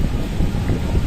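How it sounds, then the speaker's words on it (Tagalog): Steady low rumbling wind buffeting the microphone by the sea in Da Nang, Vietnam, a constant dull roar with no voices. "Grabe, ang lakas ng hangin."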